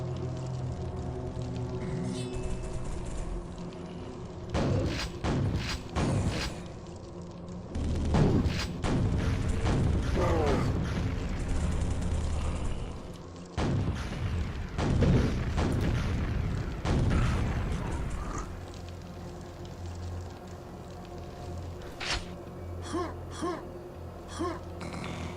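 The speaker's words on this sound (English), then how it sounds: "Some more rockets up there." Rockets exploding in a video game: clusters of deep, booming blasts go off in rapid bursts over a steady low hum, then die away into a quieter rumble.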